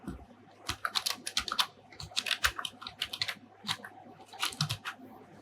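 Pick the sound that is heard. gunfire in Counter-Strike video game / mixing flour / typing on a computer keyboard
typing on a computer keyboard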